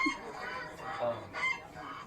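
Rooster crowing among farm poultry including geese and turkeys, a strained crow with clucking and fowl calls at moderate distance, repeated in a couple of bursts.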